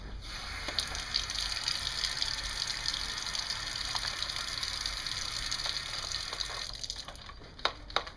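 Tap water gushes steadily into a Nerf Super Soaker Transformers water shooter, a constant hissing stream with faint plastic knocks near the end as filling stops.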